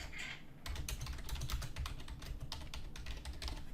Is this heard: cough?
no